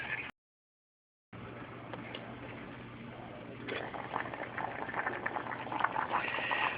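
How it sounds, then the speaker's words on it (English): Peas and seasonings boiling in a pot for Jamaican-style rice and peas with coconut flavor, a steady soft bubbling and popping that cuts out briefly, then resumes and grows slightly busier. "my peas and seasonings has been boiling, or it reached to a boil"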